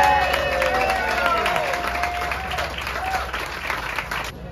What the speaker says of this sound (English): So please, a round of applause for Bill doing it.